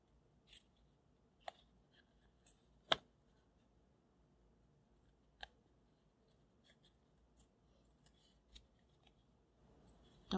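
Scissors snipping through craft foam to cut out a turtle shape, giving faint scattered clicks and snips at an irregular pace, close but quiet, with no talking.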